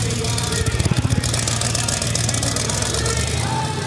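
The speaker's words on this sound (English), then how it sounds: "listen to that engine" A custom-built car with no bed and a rear fuel cell, shown at a Barrett-Jackson Scottsdale auction: its engine runs at a steady, rumbling idle with a brief throbbing pulse early on, amid crowd and venue noise.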